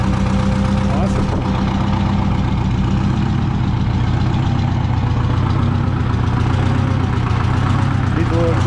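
A tractor engine idles steadily up close, a low, even rumble with a slight knocking rhythm that holds for the whole stretch; the engine is under no load and its exhaust is worn.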